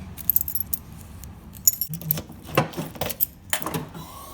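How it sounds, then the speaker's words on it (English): Keys jangling as they are pulled out to open a car trunk at a junkyard, with bright metallic rattles and clinks in short bursts, close by and fairly loud. "Gotta have your keys if you're gonna open your trunk."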